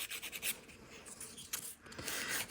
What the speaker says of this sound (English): So if you're filing, let's say with this side, this is 120 grit.